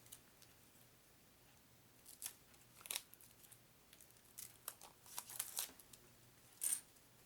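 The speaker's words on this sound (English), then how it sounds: "If I can get the stupid plastic off." Plastic wrapping is peeled and crinkled off a pack of board game cards, giving faint, scattered rustles and crackles that grow busier toward the end.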